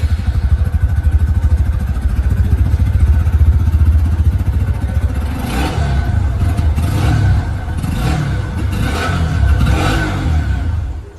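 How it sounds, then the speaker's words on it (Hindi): A 125cc motorcycle with an under-wheel exhaust idles with a steady low exhaust rumble, then revs several times in short bursts, loud and close. "अब मैं आप लोगों को यहाँ पर इसकी जो एग्जॉस्ट साउंड है वो भी मैं आप लोगों को सुना दूं।"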